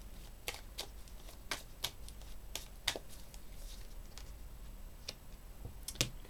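Tarot cards shuffled and drawn by hand, heard as scattered faint crisp card flicks and snaps spread irregularly through a quiet room, no talking.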